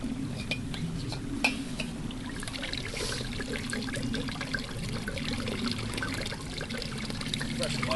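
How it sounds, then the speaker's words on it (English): Fresh stream water gurgling and trickling into a canteen, a steady close splashing and bubbling flow with occasional knocks of the container, continuous throughout. "Just gotta fill up my canteen here"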